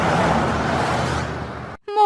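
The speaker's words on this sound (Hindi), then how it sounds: "वाहनों के चलने की ध्वनियां" Road vehicles drive past in a steady, broad rumble of engines and tires that fades out abruptly near the end.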